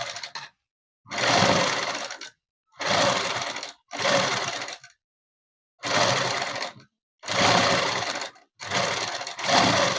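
A sewing machine stitches the lining of a net-cloth dress in loud, close bursts of rapid needle clatter, each a second or two long and separated by short silent pauses.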